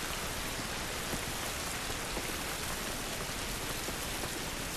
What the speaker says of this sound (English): This rain ain't looking us any good.